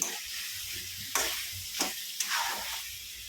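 Mutton liver fries in a pan with a steady close sizzle, punctuated by three sharp scraping bursts as a spatula stirs the pieces; nobody speaks.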